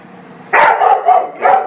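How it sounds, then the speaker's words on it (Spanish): Dogs left tied up bark several times in quick succession, close and loud, the barks sharp and slightly whiny. "ladridos de descontento de que los dejé amarrados."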